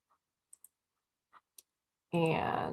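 Computer mouse clicks sound as a few sparse, crisp taps spaced irregularly in near silence, close and quiet, before a voice starts speaking over the end.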